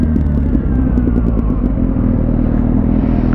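Kawasaki Z800 motorcycle fitted with a Jeskap aftermarket exhaust, riding along with a loud, steady, close engine drone and throaty exhaust rumble that holds throughout without a break.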